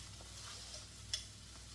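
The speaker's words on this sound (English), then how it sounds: "I'm going to add the garlic. I'm going to let it cook for like a minute." Garlic cooks in a pan with a soft steady sizzle, close and low, broken by a single sharper tick, with no talking.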